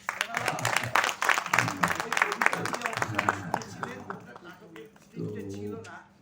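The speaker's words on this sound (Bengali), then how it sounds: "একবার সোনাদা আর বৌদির জন্য হাততালি হয়ে যাক" Audience clapping at a theatre festival, a dense patter of many hands over the first few seconds, mixed with a voice and dying away as talking continues.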